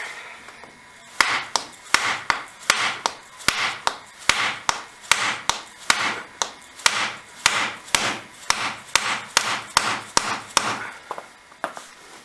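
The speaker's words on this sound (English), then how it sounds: "It's a couple of whacks with the plastic mallet so we don't damage anything" Repeated plastic mallet whacks drive the front axle into place on a 2004 Arctic Cat 650 ATV, about twenty sharp, evenly paced knocks, close and loud, with no talk.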